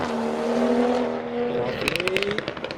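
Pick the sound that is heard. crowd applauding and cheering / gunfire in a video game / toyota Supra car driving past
toyota Supra car driving past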